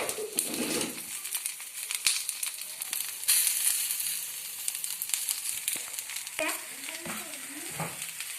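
Mussels frying in hot oil, Kerala country style, give a steady close crackling sizzle with scraping stirs and brief rustling knocks throughout, no voices.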